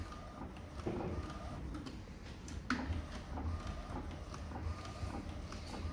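A UV LED flatbed printer converted from a wide-format model to A3 size, printing on flat sheet materials, runs with a steady mechanical hum and faint repeated ticks and clicks throughout.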